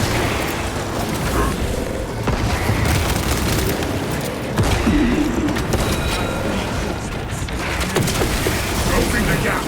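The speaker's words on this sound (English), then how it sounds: "Sending frag grenades!" Booming frag grenade blasts and heavy combat noise in Warhammer 40k Space Marine 2, several loud detonations layered over dense gunfire and clatter, with a voice calling out between them.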